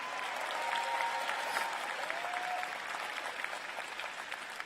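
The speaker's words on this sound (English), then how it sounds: "I want you all to give a round of applause for your family and friends" A large crowd of graduates at the 2023 UCLA College commencement ceremony in Pauley Pavilion applauds continuously, a broad, reverberant wash of clapping with a few whistles rising above it.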